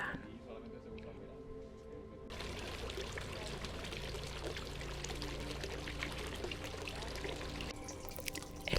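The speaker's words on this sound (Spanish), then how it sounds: "El sonido del agua te sigue acompañando hasta el patio de la acequia, que tiene una larga fuente con chorros de agua" Water pours and splashes steadily from the long fountain's jets in the Patio de la Acequia in Granada, a continuous rushing spray with a voice speaking over it.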